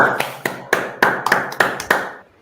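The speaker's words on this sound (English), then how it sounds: "I expect louder claps." A small group at a motivational meeting claps in roughly synchronized single beats, about eight sharp, close claps spaced evenly apart before fading out.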